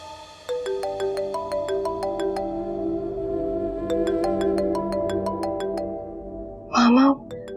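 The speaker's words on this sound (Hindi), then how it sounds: "उसी का फोन आ रहा है।" A mobile phone rings with an incoming call indoors, a clear repeating melodic ringtone playing for several seconds at moderate volume, with a short burst of a voice speaking near the end.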